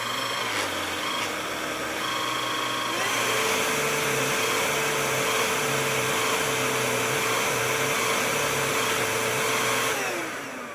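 A Parkside Silvercrest cordless vacuum cleaner's rotating brush runs with a steady, loud motor whine and whirr, picking up after a moment and holding constant before dropping at the end, with no speech.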